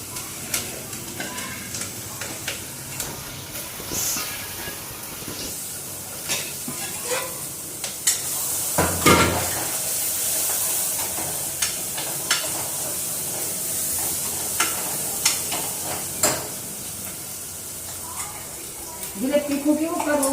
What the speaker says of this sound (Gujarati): ના થોડોક ડુંગળીનો વઘાર દીધો બરોબર